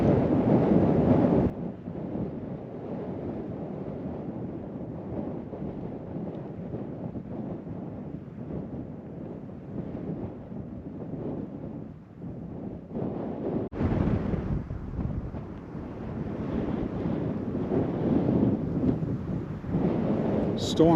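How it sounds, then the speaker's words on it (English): Wind gusts across open Wyoming country ahead of an approaching storm. It buffets the microphone with a loud, rumbling roar that briefly drops and then surges back stronger. "Storm's coming again."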